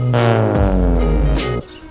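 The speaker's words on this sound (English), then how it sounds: "Curve it out as he drives away." A Honda Civic Si pulls away from close by. Its engine gives a loud, steady, harmonic drone that shifts in pitch partway through and then cuts off sharply near the end.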